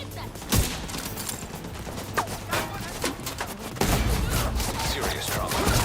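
Turret gunfire in the shooter video game The Division 2 sounds as a dense stream of rapid shots and impacts, with sharper bursts and a heavier barrage in the second half.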